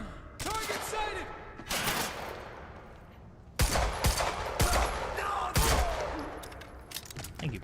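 Pistol shots ring out in Quantum Break, several sharp close cracks in quick succession with loud impacts, while a voice talks over the action.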